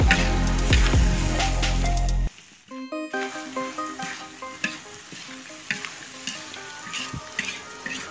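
Bitter gourd and anchovies stir-fry in a pan, first a loud dense sizzle, then after a sudden drop a quieter crackle with repeated close scraping strokes of a spatula.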